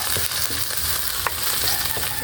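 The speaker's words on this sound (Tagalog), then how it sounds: "Lagay po Sibuyas." Onions frying in a home cooking pan as a Filipino dish gets started, a steady loud sizzle with occasional stirring clicks, no talking.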